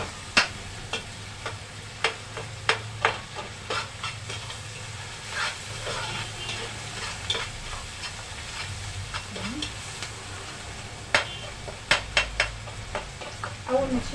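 Garlic and peppers sautéing in a pan on the stove, a steady low sizzle with frequent sharp clinks and scrapes of a utensil stirring against the metal, with faint background rumble.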